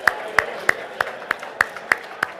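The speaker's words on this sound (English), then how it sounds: "Give yourselves a round of applause." A small group in a presentation workshop claps together in slow, evenly spaced beats, about eight sharp hits in steady rhythm, close and fairly clear with no voices over it.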